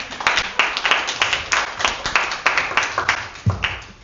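An audience claps at an indoor smell-themed live show, the applause coming as a string of loose, moderately loud bursts with a few voices faintly mixed in.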